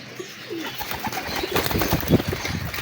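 Hira Lal breeder pigeons coo softly in a home loft, a few low, rolling calls rising near the end, with faint rustles and a flutter of wings between them.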